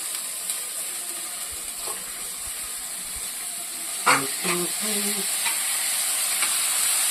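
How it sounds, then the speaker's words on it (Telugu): Mutton keema and onions fry together in a pan with a steady sizzling hiss, and a spoon scrapes and clatters against the pan in short bursts partway through. "ఇప్పుడు ఉల్లిపాయలు కీమ అన్నీ కలిపి ఒకేసారి మంచిగా ఫ్రై అవుతాయి"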